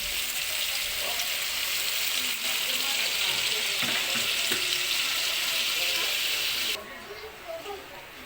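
Water goes into a pan of frying chicken necks with onion and garlic for adobo, setting off a loud, close, continuous sizzle. The sizzle drops sharply near the end, and a voice is heard faintly.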